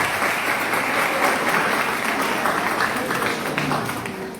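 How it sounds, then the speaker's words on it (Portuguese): An audience at a community talk on sexuality after 50 breaks into sustained applause to welcome a speaker, a thick, even roar of many hands clapping that tapers slightly at the close. "Salva de palmas para você."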